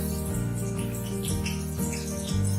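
Pointed gourd (potol) rubbed with salt and turmeric hisses as it goes into hot oil, making a steady, close sizzle under soft background music.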